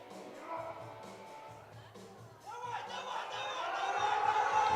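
A crowd cheering at a European junior equipped powerlifting championship, starting as faint chatter and swelling into a louder, sustained cheer toward the end.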